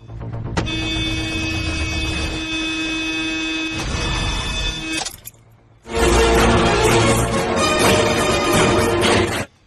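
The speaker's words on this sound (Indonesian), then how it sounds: "Klakson dibunyikan berkali-kali hingga telinga Takur sakit." A car horn blares in long, loud blasts, one held for several seconds, a short pause, then another sustained honk.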